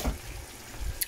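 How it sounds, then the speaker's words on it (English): Hot boiled water poured into a pot of lamb shank bhuna makes a brief, faint trickle and gurgle close by, ending with a small splash. "I'm adding hot boiled water"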